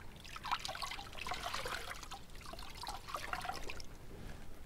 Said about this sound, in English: So I'm going to take the first few rags off. There we go. Wring them out.